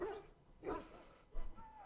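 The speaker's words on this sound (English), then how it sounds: "He whimpers plaintively." A dog in the game Dragon Age: Origins lets out a few soft, plaintive whimpers and yips in short separate bursts, fairly faint and close, with no talk over them.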